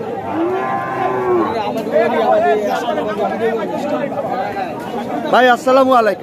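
Sahiwal cattle at a crowded cattle market low with drawn-out moos near the start and again near the end, under a man's greeting and the chatter of the crowd.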